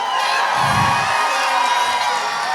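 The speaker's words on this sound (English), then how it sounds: "The crowd here are behind you, supporting you." A combat sports crowd at a Total Kombat event cheers and whoops in a sustained, loud roar that fills the whole short stretch without pause.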